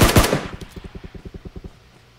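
Gunfire in a shooter video game: a couple of loud opening shots followed by a steady burst of rapid automatic fire that fades out, with no talking over it.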